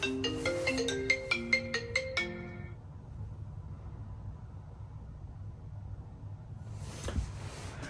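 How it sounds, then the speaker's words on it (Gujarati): A melodic phone ringtone signals an incoming call, playing a quick run of bright notes for about two and a half seconds before cutting off, leaving a low steady hum of room noise and a faint thump. "કોનો ફોન આવે અત્યારે?"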